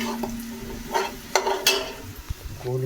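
A spoon stirs onion, garlic and ginger frying in a pan, producing soft sizzling with scattered scraping and clinking knocks against the metal.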